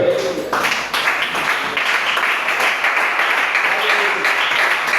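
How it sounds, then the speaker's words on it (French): A church congregation at a French-language service applauds: dense, sustained clapping that fills the space at an even level, with voices mixed into the crowd noise. "Acclamons le Seigneur."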